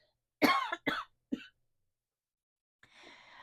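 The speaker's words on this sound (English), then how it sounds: "excuse me, I'm going to cough" Three sharp coughs in quick succession, close and fairly loud, followed by a pause and then a soft, breathy sound.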